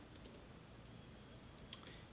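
Light typing on a computer keyboard, a few soft irregular key clicks with one sharper tap, faint and close over a low background hum, no speech.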